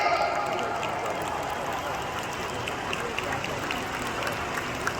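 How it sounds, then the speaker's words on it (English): A large audience at an international gathering in the Philippines claps in a broad, continuous round of applause, a rain-like patter that starts strongest and then holds steady. "Can we all give ourselves a round of applause today?"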